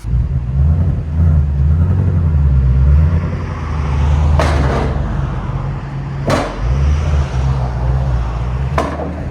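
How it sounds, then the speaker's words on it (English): A 2017 Ford Mustang GT350 with the 5.2L Voodoo V8, exhaust valves closed, idling with a deep rumble then revved three times in sharp, loud bursts, heard close and without talking. "Gotta rev it. Now remember, that's the valves closed on it"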